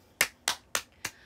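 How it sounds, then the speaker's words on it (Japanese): Four sharp, separate hand claps spaced evenly about a quarter second apart, crisp and close, each ringing briefly before a quiet gap, with no talking. "拍手。"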